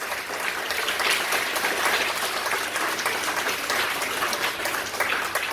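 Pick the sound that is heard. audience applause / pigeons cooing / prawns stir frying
audience applause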